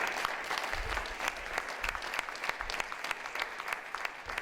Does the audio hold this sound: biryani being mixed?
no